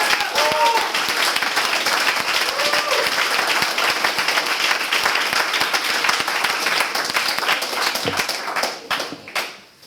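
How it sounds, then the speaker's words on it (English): Sustained audience applause fills a graduation ceremony for a program phase, dense clapping from a large crowd that holds steady before tapering off at the end, with some voices mixed in. "Let's give it up for Sam, our graduate tonight"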